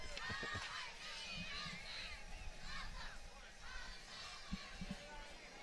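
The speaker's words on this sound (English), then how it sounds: "They're going to give us a cheer." Youth football cheerleaders at the Holyoke St. Patrick's Day street parade chanting a cheer, a group of young voices shouting rhythmically amid crowd chatter, somewhat distant and faint.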